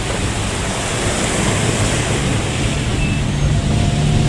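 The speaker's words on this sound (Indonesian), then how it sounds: "Ini air terjun lagi nih." Loud, continuous broadband rush of a waterfall in a forest, heard close and steady throughout with a deep low rumble and no speech.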